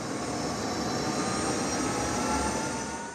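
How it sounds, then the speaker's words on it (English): An F-16 fighter jet in flight at an air show display in Bahrain, a steady broadband engine roar that holds loud and constant throughout with a slight swell near the end. "Major Waters is in Bahrain to display the F-16"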